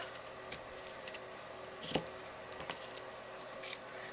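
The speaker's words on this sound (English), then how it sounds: "just take my scissors and trim that up." Scissors trim ribbon for a small bow on a vintage dress form card, producing a few faint, sharp snips and light ticks at close range in a quiet room.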